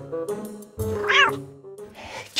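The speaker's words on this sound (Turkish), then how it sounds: "Kesin kedi mi lan?" A cat meows several times, the cries rising into a drawn-out, wailing caterwaul in the middle before a short final call, fairly close and alone with no talk.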